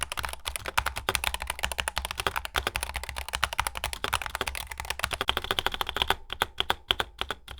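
Rapid, crisp keystrokes clatter steadily on a Razer Huntsman gaming keyboard, close up, thinning into a few scattered clicks near the end.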